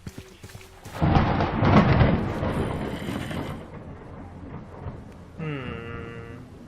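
Thunder crashes over falling rain in modded Minecraft 1.12.2. A loud rolling rumble fades into steady rainfall, and a short tonal game sound follows near the end.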